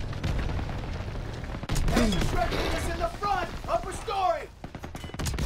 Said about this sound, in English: I can just be shooting at the buildings the whole time